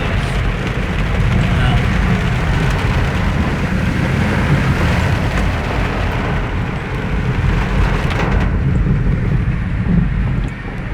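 Heavy rain pours in Osasco, a dense, loud, unbroken roar with gusty wind buffeting the microphone throughout.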